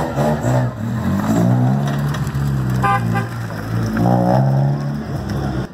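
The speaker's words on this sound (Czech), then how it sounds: "nám najíždí další krásný auto. Toyota Celica 2 litr." A Toyota Celica 2-litre rally car pulls up to the rally start, its engine revving and burbling nearby with uneven rising and falling pitch against crowd noise.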